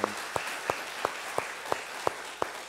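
A church congregation in Oakland, at a United Methodist Easter service, welcomes a newly baptized member with applause that comes through as faint, evenly spaced single claps, about eight in steady rhythm.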